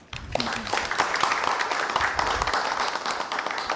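An audience of university presidents applauds National Assembly Speaker Moon Hee-sang at a meeting during a conference, with dense, even clapping that continues throughout.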